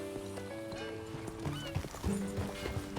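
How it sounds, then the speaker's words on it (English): Hooves clip-clop at a steady pace as a horse moves along, joined by a whinny, with a low musical score beneath, from the video game Red Dead Redemption 2; no speech. "That a new horse?"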